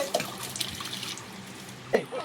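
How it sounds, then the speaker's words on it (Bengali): Tap water runs and splashes while a young niece's feet are washed at home before playing in a small backyard water pool, with soft drips and a couple of louder splashes under a quiet voice. "তো এখন ভাগ্নির পা ধোয়া"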